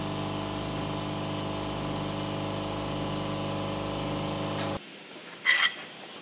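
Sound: drilling a hole in a propshaft

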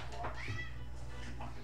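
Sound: cat meowing

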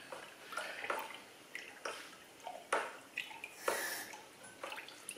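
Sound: stirring wine kit juice in a fermenter

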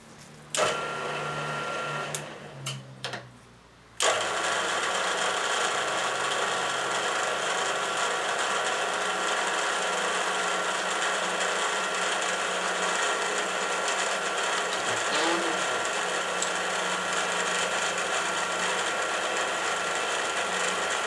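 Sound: power tool cutting down a piece of aluminum

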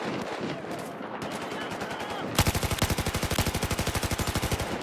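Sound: MG4 machine gun firing in Battlefield 4 video game

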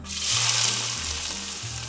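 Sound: onions added to hot oil with cloves and cinnamon, frying

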